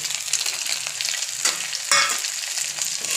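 Bombay duck fries in a pan as dry masala is stirred through, a close hissing sizzle broken by two or three spatula scrapes, brief and with no voices.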